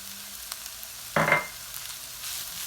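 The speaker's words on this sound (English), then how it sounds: "give it a mix" Egg bhurji with chopped green coriander is stirred in a pan on a gas stove, giving one short scraping burst over a faint background sizzle, with softer clinks afterward.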